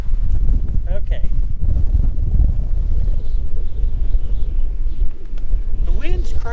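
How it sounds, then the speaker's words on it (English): Strong wind buffets the microphone at an outdoor beehive, a constant loud, low rumble and roar with faint higher sounds flickering through it. "The wind's crazy"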